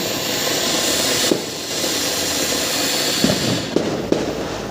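Dense, continuous crackling and rumbling bursts, with a few sharper pops standing out, as Diwali firecrackers go off in the near distance.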